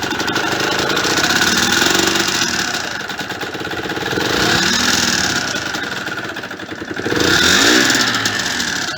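Cold Yamaha DT motorcycle engine idling on choke, a loud close two-stroke burble that rises and falls in three slow swells without any sharp revving.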